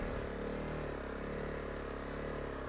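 A Honda CRF 300 Rally motorcycle rides through very loose sand, its engine giving a steady, loud drone that stays close and constant throughout, with no talk over it.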